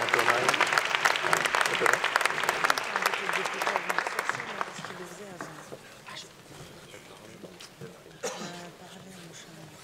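An audience at a New Year's greetings ceremony applauds, loud dense clapping that thins and fades over several seconds, followed by coughs and low murmuring voices.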